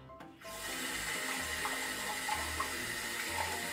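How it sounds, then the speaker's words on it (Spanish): A drinking glass is rinsed under a running kitchen tap, water pouring steadily and splashing close by, with faint clinks of glass against the stream. "Dale, lavamos el vaso."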